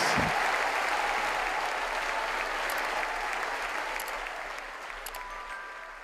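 A church congregation applauds steadily, a broad continuous wash of many hands clapping at close range, slowly tapering toward the end with no voices on top.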